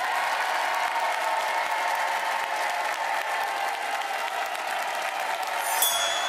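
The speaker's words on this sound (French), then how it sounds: "On applaudit fort Dominique" Sustained applause from a studio audience on a French Christmas charity TV special for Restos du Coeur, an even, dense wash of clapping with no pauses.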